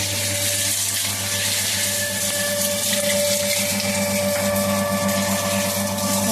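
Water runs steadily and loudly at close range, with a constant pump-like hum beneath, while something is rinsed clean outdoors; no speech.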